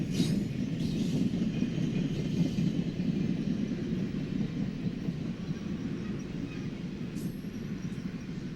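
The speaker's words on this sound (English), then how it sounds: "A huge westbound intermodal train is next" A huge westbound intermodal freight train rolls past at Berea, a steady low rumble and grinding that holds evenly throughout, with faint high squeals from the wheels near the end.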